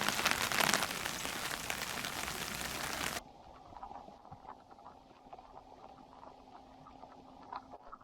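Heavy rain falls outdoors in France, a loud dense hiss for about three seconds that cuts off abruptly to a quiet background with scattered drips and faint sounds.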